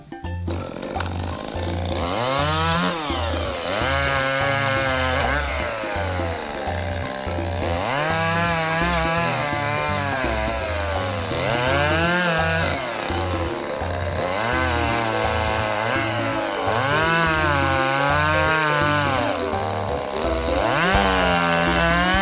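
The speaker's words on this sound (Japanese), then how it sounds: "向こう側の木を山本さんがチェーンソーで切っています。" A chainsaw prunes branches from a cedar tree at some distance, its engine droning continuously and repeatedly revving up and dropping back in long surges as it bites through the wood.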